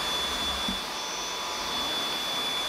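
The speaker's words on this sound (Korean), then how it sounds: "정보를 좀 많이 물어보셨던 청소기인데 다이슨 V7 플러피 플러스 모델이고요." A Dyson V7 Fluffy Plus cordless vacuum cleaner, an older model bought around 2018 or 2019, runs in a duplex studio apartment with a steady, loud, whooshing motor whine that holds throughout.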